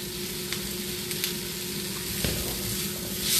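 Onions fry in a pan for a sesame chicken stir-fry, a steady close hiss of sizzling oil with a few light clicks and stirring scrapes, no talk.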